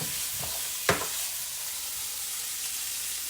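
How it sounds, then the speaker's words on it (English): Hot dogs browning in a pan for a Southern beanie weenie dish give off a steady, close frying sizzle that runs through the whole stretch, with one sharp clack of a utensil against the pan near the start. "Now these weenies are browning."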